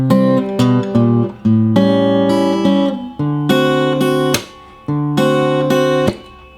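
Acoustic guitar plays the third line of a song, a handful of ringing chords and short picked runs over about six seconds, close and alone.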